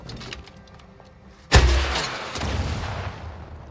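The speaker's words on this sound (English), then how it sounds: "But that's a rocket launcher." A rocket launcher in The Outer Worlds 2 fires with a sudden loud blast and whooshing rush after quiet ambience, followed by a rumbling second burst that trails off.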